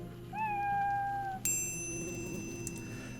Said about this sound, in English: The kitty says